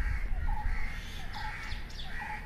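Small birds chirp and tweet in repeated short bursts in a hostel garden at a college campus, moderately near over a steady low background rumble, with no talk.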